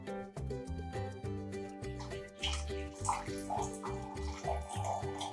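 Steeped sage liquid poured for lemonade, a steady splashing trickle with gurgling bubbles, close and moderately quiet over a musical background.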